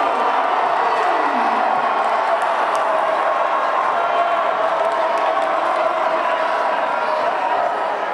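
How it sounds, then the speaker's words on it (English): A high school boys basketball crowd in a gym roars and cheers after a play, a dense, loud, sustained wall of voices and whoops with some clapping mixed in. "This crowd erupts."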